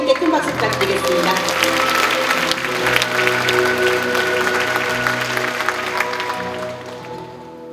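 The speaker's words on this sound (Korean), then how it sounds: "다시 한 번 더 우리 시장님께 큰 박수 부탁드리겠습니다." Applause from an audience at a family concert of poetry and music, a sustained wash of clapping that holds steady and then fades out toward the end.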